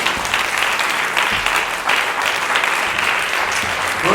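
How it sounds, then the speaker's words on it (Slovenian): A gathering audience at a Christian mission event in Prevalje gives Mihaela Roka a round of applause: dense, steady clapping from many hands that fills the whole stretch, loud and close, with no voices over it. "dajmo en aplavz Mihaeli Roki"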